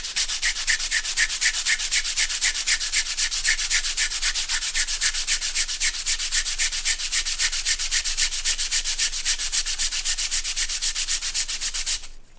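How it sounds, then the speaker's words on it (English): A charcoal stick is rubbed back and forth on sandpaper to sharpen it, making a loud, rhythmic scraping that repeats in fast even strokes for about twelve seconds and then stops abruptly. "if you've got a lot of flat of the charcoal touching the surface of the sandpaper, you'll get a longer point"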